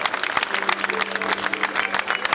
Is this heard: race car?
no